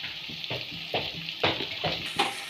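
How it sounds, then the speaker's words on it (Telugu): Turmeric being stirred into ingredients fried in oil, with quick, repeated spoon scrapes against the pan over a soft sizzle, close and fairly loud, with no voices. "ఇలా పసుపు వేసుకొని ఇలా కలుపుకోవాలి"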